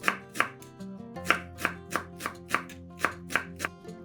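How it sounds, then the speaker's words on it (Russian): A knife finely chops a bunch of dill on a cutting board in a quick series of sharp, close taps, roughly a dozen strokes in a fairly even rhythm, with no talking. "Мелко нарезаем пучок укропа."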